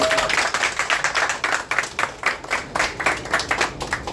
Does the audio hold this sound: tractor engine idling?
no